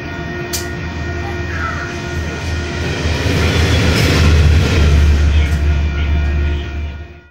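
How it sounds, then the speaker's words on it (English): A heavy diesel locomotive running as a light engine rumbles steadily with a deep low drone, growing louder as it passes close by through Islington, Christchurch, with faint rail clatter and a distant crow cawing. "I caught this light engine movement passing through Islington"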